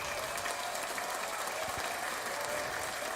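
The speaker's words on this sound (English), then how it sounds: "So round of applause for you guys." A crowd of Titans and NFL fans applauding during a Titans vs Jaguars week 17 recap show, a steady wash of clapping that holds at an even level for the whole stretch.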